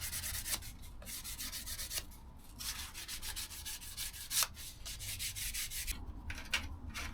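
A plastic radio fascia adapter for a Honda Civic MK8 is trimmed by a few millimetres. Close, steady rasping and scraping strokes repeat in quick succession with brief pauses, and no talk is heard.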